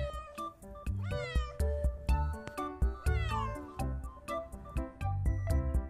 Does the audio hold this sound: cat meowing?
yes